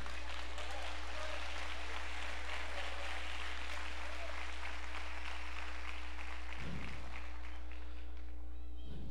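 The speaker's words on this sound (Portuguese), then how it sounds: "dê um aplauso ao Senhor" Congregation standing in a church service claps together, a continuous fairly distant roar of hands under a steady electrical hum, with a brief voice near the end.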